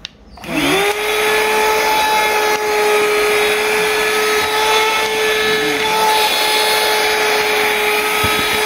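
A USB-rechargeable vacuum cleaner motor whirs up and keeps running at a steady, loud, high-pitched drone for several seconds, with no voices.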